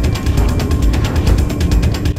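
Loud mechanical clatter of a working elevator in the video game Mirror's Edge, fast regular ratcheting clicks layered on a deep droning rumble throughout.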